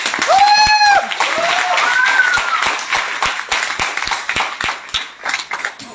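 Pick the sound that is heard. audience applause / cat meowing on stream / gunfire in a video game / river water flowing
audience applause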